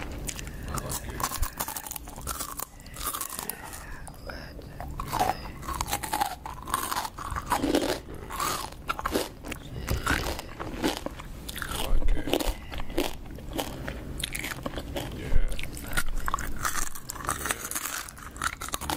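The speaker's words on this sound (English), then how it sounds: "Crickets, so crunchy." A praying mantis eating a cricket, heard as close, dense crunching and crackling bites in an irregular rapid rhythm that continues for about twenty seconds, crisp and intimate under faint background noise.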